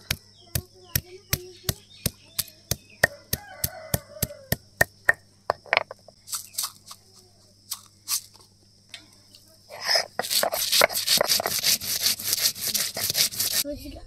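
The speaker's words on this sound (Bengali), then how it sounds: "এবার আদা জিরে একসাথে বেটে নেব" Ginger and cumin being ground together on a grinding stone: a string of regular, evenly spaced sharp knocks, then faster, denser rubbing and scraping strokes, close by and loud.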